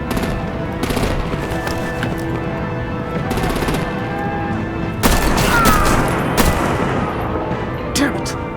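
Sustained gunfire and artillery from a firefight in the Batman Telltale game The Enemy Within, with a dense rumbling barrage, rapid bursts and a louder crack of shots about two-thirds through, mixed with faint voices.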